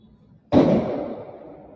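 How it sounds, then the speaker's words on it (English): A fuel-fed incendiary device thrown into a fire outside a federal building explodes in one sudden loud blast with a broad roar that slowly fades, heard alone with no talking. "And it explodes."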